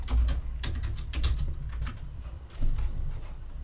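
Close keystrokes on a computer keyboard come in quick irregular bursts of clicks and taps, with short pauses between runs, as someone types in Visual Studio.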